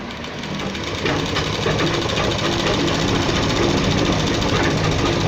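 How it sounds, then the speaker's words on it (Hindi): A sewing machine stitches a men's kurta, giving a steady, continuous mechanical whir with a rapid needle rhythm that holds at an even, fairly loud level throughout. "एक पैर की सिलाई इसके बराबर में और लगाएंगे।"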